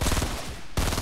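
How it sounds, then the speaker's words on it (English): Rapid gunfire bursts from a Fortnite firefight, dense and loud, with a sharp cut to near silence before another loud burst resumes. "Oh, I got shot in my back."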